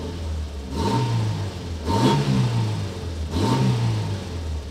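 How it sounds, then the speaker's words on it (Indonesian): Esemka Bima 1.3 engine, 2021 model, running steadily at idle with three short throttle blips that rise and fall about a second apart, heard close with no talking. "Kita nyalain dulu mesinnya. Mesinnya halus, tidak ada getaran yang sampai ke dalam kabin."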